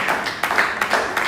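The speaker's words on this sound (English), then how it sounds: "Give your friend a clap." A classroom of students gives a brief round of applause for a classmate, several quick overlapping claps at moderate volume that fade within a second or so.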